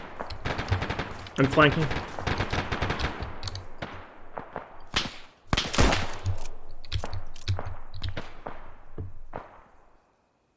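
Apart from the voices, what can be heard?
machine gun fire in the video game ArmA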